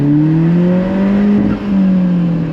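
An Alfa Romeo 4C sports car engine revs hard at redline in second gear, the note holding and wavering, briefly dipping before climbing again, loud and close.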